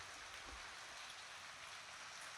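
Rain falls steadily over a village, a faint, even hiss of drops with no voices.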